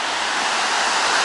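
Waves breaking on a beach in Pattaya, a steady, loud broadband surf roar with no breaks or talk.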